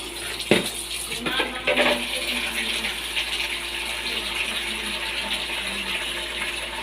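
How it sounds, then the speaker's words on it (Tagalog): Water poured into a pot of seared pork hock for nilagang pata, a brief clatter and then a steady close splashing and trickling stream that continues under light kitchen noise. "lalagyan na po natin ng tubig."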